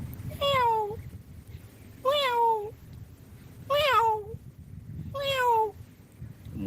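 A voice mimics a kitten with four clear, evenly spaced meows, each falling in pitch, over a soft low hum.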